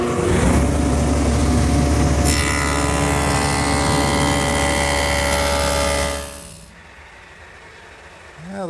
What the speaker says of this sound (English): now I can run the rip fence over the dado head cutter for varying widths of rabbets